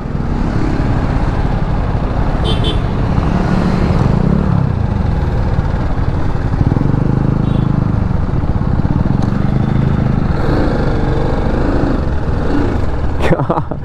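Motorcycle engines, KTM Adventure 250 and 390 bikes at a 2022 launch event ride, drone steadily and close as the ride gets under way, a continuous low rumble with no break, with voices faintly mixed in.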